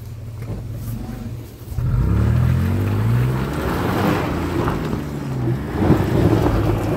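A vehicle's wheels spin in deep mud as it tries to take off. After a quieter start, the engine surges into a loud, sustained revving roar with wind buffeting the microphone.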